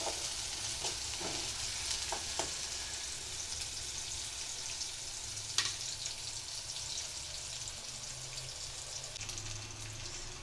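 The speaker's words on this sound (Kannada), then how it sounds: "ನೋಡಿ, ಇದನ್ನು ನಾನೇ ತಿರುಗಿಸ್ತಾ ಇದ್ದೇನೆ, ನಾನೇ ಕಲಿಸ್ತಿದ್ದೀನಿ." Okra and spices fry in a pan for an Uttara Karnataka style palya, giving off a soft, steady sizzle with occasional scraping and tapping from stirring.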